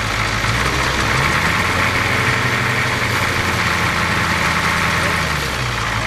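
A Ford 6.9 diesel engine with a new injection pump idles steadily nearby, a low rumbling drone with a constant knocking rhythm and broad hiss, holding even for the whole stretch.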